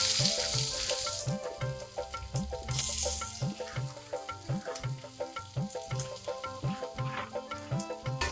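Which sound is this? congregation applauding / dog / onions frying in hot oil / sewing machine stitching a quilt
onions frying in hot oil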